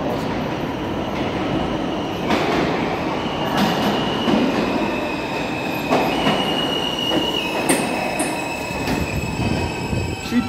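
A New York City subway R160A E train bound for Jamaica Center rumbles along steadily, with loud metallic wheel squeals and occasional clanks over a constant low roar.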